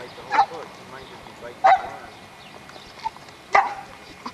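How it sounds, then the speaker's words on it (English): A dog barks three separate times at a summer lakeside fishing outing, sharp single barks spaced a second or more apart over quiet outdoor background. "There's Goofy Dog."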